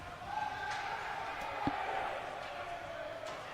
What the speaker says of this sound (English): Hear the crowd's displeasure at the no call there on that one.